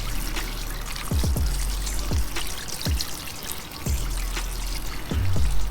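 Water rinsing an INJEN air intake filter from the inside out to push dirt out, a steady close splashing trickle and pour with a few brief knocks and drips along the way.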